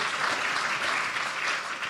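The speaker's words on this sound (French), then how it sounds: "On peut l'applaudir." Sustained applause from an audience for a guest speaker at a web festival event, steady dense clapping throughout with no voices over it.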